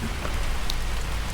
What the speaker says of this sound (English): It's freaking pouring raining.